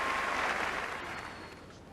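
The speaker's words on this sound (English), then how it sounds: "The crowd showing their appreciation." A football crowd at a 1988 George Best testimonial match applauds at the half-time whistle, a broad, distant wash of clapping that gradually fades over two seconds.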